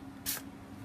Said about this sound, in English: I'm going to spray on some water to start off with